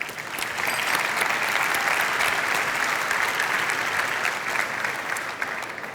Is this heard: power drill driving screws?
no